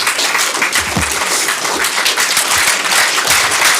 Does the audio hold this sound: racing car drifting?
no